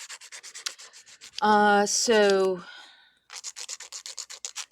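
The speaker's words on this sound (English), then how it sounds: "So I'm sanding this a little bit more because it still feels a little rough" Rhythmic rubbing strokes of hand sanding a birthday crown, close and crisp, interrupted by a short spoken word before the back-and-forth scraping resumes.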